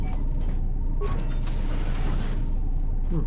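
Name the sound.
morgue door opening in video game Star Wars KOTOR II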